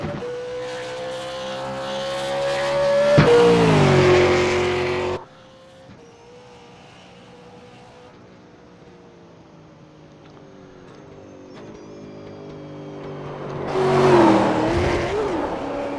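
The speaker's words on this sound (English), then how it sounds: "That's me hitting the rev limiter before I took the pit lane speed limiter off." A V8 Supercar engine in iRacing at Mount Panorama, loud and close, revs up to bounce off the rev limiter with a stuttering buzz, drops to a low idle, then climbs and hammers the limiter again near the end.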